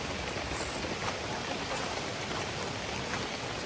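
Steady rain pattering on a camping tent beside a river in the Malaysian forest, a dense, even hiss of drops that holds at a constant level throughout, with no voices.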